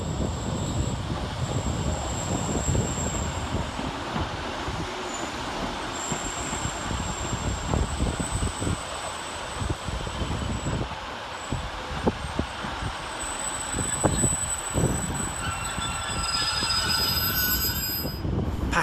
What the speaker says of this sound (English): Next to arrive into Edge Hill is 156466 and 156441, working the 1757 Northern service from Manchester Oxford Road to Liverpool Lime Street.